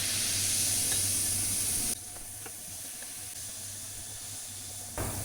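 Baking soda reacts in liquid, giving a steady fizzing, crackling hiss, fairly loud and close at first, then quieter with faint bubbling pops as the reaction slows, with no voices.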